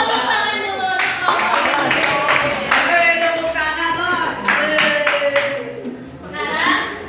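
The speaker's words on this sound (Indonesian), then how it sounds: "Tepuk tangan dulu." Children in a classroom clap their hands together in a run of sharp, fairly close claps, mixed with children's voices and talk from the teacher.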